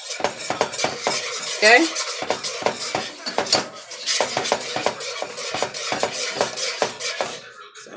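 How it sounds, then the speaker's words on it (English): A spoon stirs a roux in a pan with rapid, rhythmic scraping and clinking strokes. A soft sizzle runs beneath the close, loud strokes, and a voice briefly speaks. "I keep stirring it"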